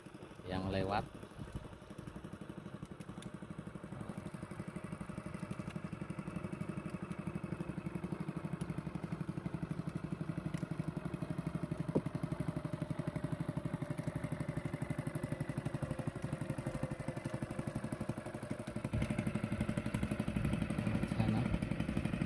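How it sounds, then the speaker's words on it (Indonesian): A boat engine passes on the water at a fishing spot, a steady mid-pitched motor drone with clattering texture that holds for the whole stretch, slowly shifting in pitch as it moves by, fairly close and continuous. "ada perahu lagi yang lewat."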